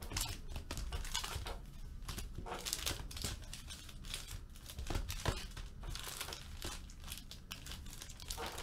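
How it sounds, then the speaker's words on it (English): Foil-wrapped Upper Deck Marvel Masterpieces trading card packs shuffled by hand, giving close, busy crinkling and rustling with quick irregular crackles throughout and no talking. "I'm just gonna shuffle the packs a little bit."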